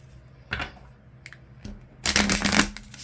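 A deck of tarot cards gets a quick shuffle: a few brief riffling flutters, then a louder, denser burst of card slaps and riffles lasting about half a second, close by and without talk.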